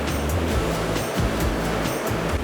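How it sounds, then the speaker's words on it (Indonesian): Ocean waves from the southern sea crash onto sharp, slippery coral rocks, a loud continuous roar of surf with heavy surges of breaking water at close range. "Bahkan langsung dihantam gelombang dari laut selatan."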